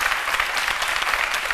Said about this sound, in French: On applaudit très fort Loïc de Denis.